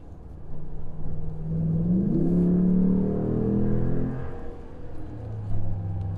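A Ram 1500 pickup's 5.7-liter Hemi V8 with a cold air intake revs up from idle, rising to a deep rumbling whir that holds and then settles back, loud and close with no talk.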